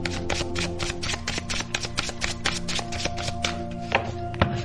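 Tarot cards are shuffled and drawn in quick riffling bursts, a steady run of close, crisp papery flicks and taps with no talking.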